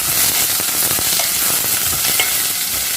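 Garlic cloves and a few green chilies frying in a pan, with a steady loud sizzle and crackle throughout and small pops and stirring scrapes, no talking.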